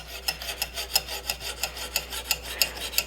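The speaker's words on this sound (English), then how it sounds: "I will drag the stone against it like this to fold that wire edge back in the opposite direction without ripping it off" A sharpening stone is drawn along a knife's edge to fold back the wire edge before polishing the secondary bevel, giving steady, rhythmic rasping strokes, roughly five a second, close and clear with no talking.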